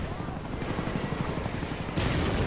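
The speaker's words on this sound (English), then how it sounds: "I get shot down here in the chopper." A helicopter being shot down in the video game Call of Duty Black Ops: a dense, continuous rotor-and-engine roar mixed with rapid gunfire crackle, swelling louder and brighter near the end.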